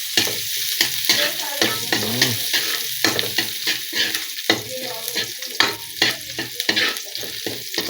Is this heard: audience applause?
no